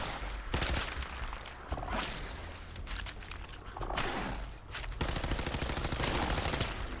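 Dense automatic gunfire from a firefight in the video game Fallout 4, with rapid sustained bursts of shots running continuously and loudly throughout, alone with no talk.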